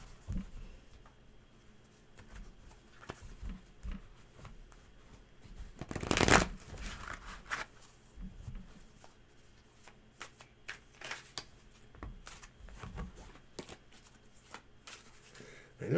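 Tarot cards being shuffled by hand, a steady papery riffle and patter running throughout with a louder burst of handling partway through, close and alone.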